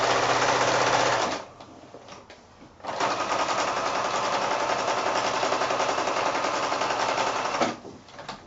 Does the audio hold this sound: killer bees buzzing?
no